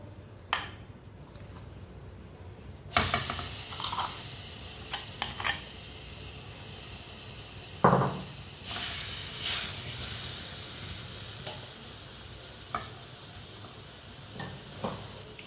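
Ground dates sizzle softly in a pan over a low flame, with a steady faint hiss broken by occasional scrapes and clinks of stirring.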